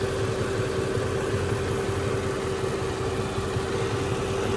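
A Mercedes SL500 engine idles steadily with a constant low hum and a faint high whine, alone and unchanging throughout, with no talk.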